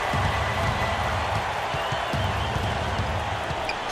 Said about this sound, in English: And now the crowd really getting into it. Listen to that.